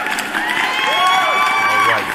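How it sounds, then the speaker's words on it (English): A live crypto news stream plays an applause and cheering effect: a crowd claps and whoops in a bright, continuous burst, with a faint voice-like tone rising and falling beneath it. "let's give you guys a round of applause"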